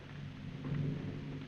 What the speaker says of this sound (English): The storm looks as though it were going to be a good one.